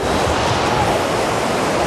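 River water rushes loudly and continuously near Munthoua waterfall in Kharmang, Gilgit-Baltistan, a dense, steady roar filling the whole clip with no break.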